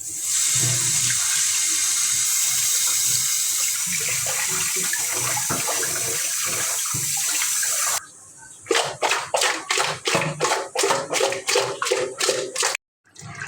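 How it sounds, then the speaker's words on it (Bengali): Pangas fish being washed under a running kitchen tap gives a steady rush of water, then a series of rhythmic splashing bursts as the fish are rinsed and handled, ending with a brief pause. "এখন আম্মু পাঙ্গাস মাছগুলোকে ধুয়ে নেবে।"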